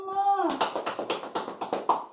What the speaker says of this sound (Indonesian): Tepuk tangan buat Umu.